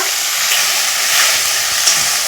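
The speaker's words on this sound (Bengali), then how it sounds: "এখন আমি মশলাটা ভালো করে কষিয়ে নেব" Spice masala sautés in a pan, a continuous bright sizzling hiss with slight swells as it is stirred, close and fairly loud.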